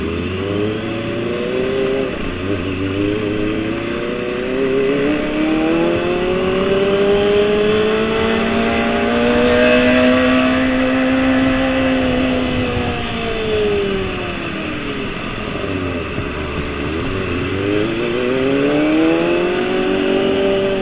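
Kawasaki ZX-25RR four-cylinder sport motorcycle revving while riding on a morning commute, the engine held at partial throttle with smooth rising and falling high-pitched wails, loud and close, continuous with no talk.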